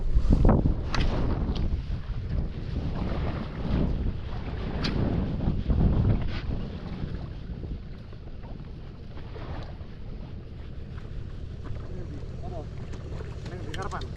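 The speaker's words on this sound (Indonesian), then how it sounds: "Itu kapal." A boat passes on open sea near an island off Karimunjawa, its engine a steady low rumble partly buried under strong wind buffeting the microphone, with people talking nearby.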